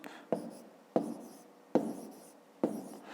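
Pen strokes on paper while numbers are written out for column multiplication in a fifth-grade maths exercise: four distinct scratchy strokes, each a sharp onset fading out, spaced evenly and close up, with no talk.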